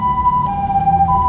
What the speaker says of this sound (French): L'ambulance.